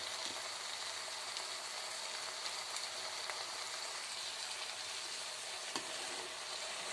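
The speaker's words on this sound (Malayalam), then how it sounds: "ഇനി ഉപ്പൊക്കെ ചേർത്ത് നന്നായിട്ട് ഇളക്കി ഫ്രൈ ആക്കിക്കൊണ്ടിരിക്കുകയാണ്" Soya chunks fry in a pan with salt added, giving a steady, dense crackling sizzle throughout and only faint hints of stirring, with no voices present.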